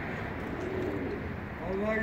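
Pigeons, including a winged flying bird of a butterfly-cross type, coo in low soft rolls amid outdoor noise, with a voice talking over them.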